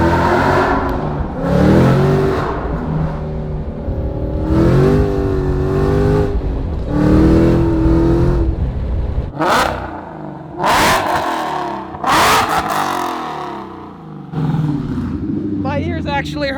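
A loud 2020 Shelby GT500 sports car engine revs hard in repeated bursts, roaring up and dropping back, with people talking between the revs, at the Shelby factory.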